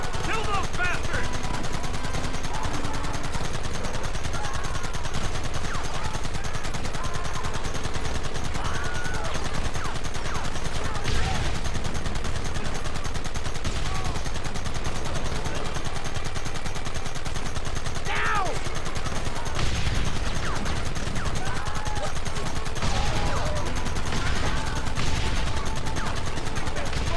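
Sustained gunfire rattles through a shootout in Red Dead Redemption, dense bursts of rifle and machine-gun shots crackling over a noisy battle bed, with shouting voices mixed in throughout.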